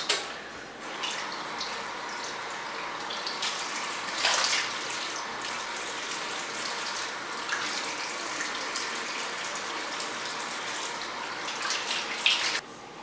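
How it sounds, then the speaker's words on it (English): Running water splashes steadily at a bathroom sink as hands scoop it onto the face for a final rinse, a continuous close, fairly quiet wash lasting throughout with no talking. "I just give it a final rinse with my hands and water."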